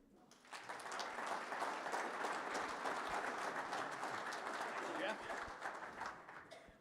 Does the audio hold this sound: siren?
no